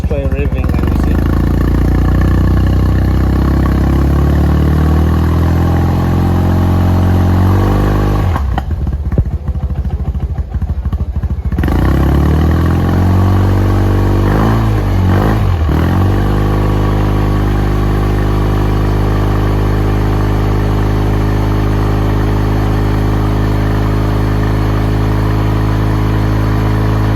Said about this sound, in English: Let us try revving and you see.